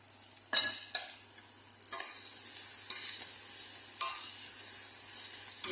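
Fish and shrimp fry in oil in a pan, a bright, continuous sizzle swelling as more oil goes in, broken by a few sharp scrapes and clanks of stirring, with no voices.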